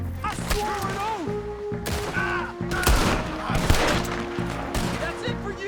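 Gunfire in Red Dead Redemption II, a rapid fusillade of sharp shots and cracks in bursts, close and loud, while voices talk and call out over the shooting.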